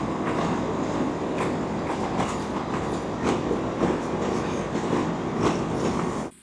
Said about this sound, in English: It's one of a kind, being that close to the train.